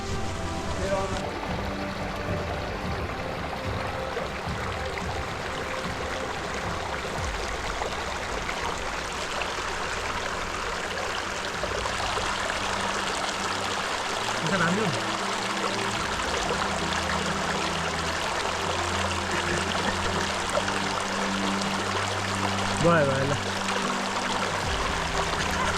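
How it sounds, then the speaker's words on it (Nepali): A small mountain stream flows on the Mundhum trek in Nepal, running as a steady, continuous close-up rush and trickle of water throughout, with people talking over it at times. "खोला यति सानो छ यार आज"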